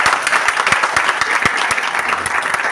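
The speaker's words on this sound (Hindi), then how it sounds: "जोरदार तालियां इसके लिए।" Lively applause from an audience at a Hindi-language meeting speech, dense rapid clapping that stays fairly steady and close for a few seconds with little else over it.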